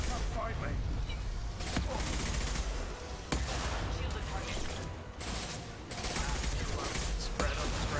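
Rifle fire from the Mass Effect Legendary Edition video game comes in sustained loud bursts with brief pauses between volleys, with clanking mechanical effects mixed into the dense barrage.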